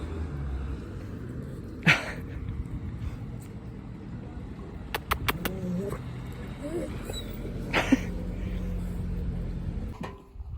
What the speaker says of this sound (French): Retrouvailles entre Patron et les deux chiens du centre-ville.